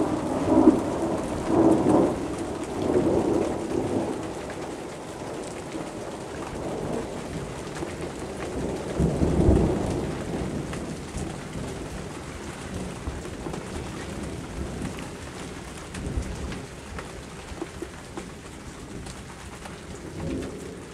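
A thunderstorm rolls through with steady rain and several low rumbles of thunder, one heavier rumble in the middle. Pigeons or doves coo faintly in the background and nobody speaks.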